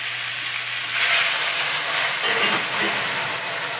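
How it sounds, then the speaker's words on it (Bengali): A pot of water boils on a stove beside the cooking, giving off a continuous close hiss and steamy bubbling that swells slightly partway through, with no one talking. "এবার এই যে পাশে গরম জল বসিয়েছি, এই জল ফুটছে"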